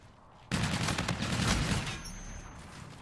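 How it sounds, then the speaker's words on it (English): Dense automatic gunfire from hip-firing in a video game starts abruptly and rattles on loudly and continuously, easing slightly toward the end. "Hip fire."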